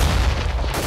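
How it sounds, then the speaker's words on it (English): In a Counter-Strike match on the Train map, a flashbang grenade goes off as one loud, sharp boom right up close. "I'm throwing a flashbang."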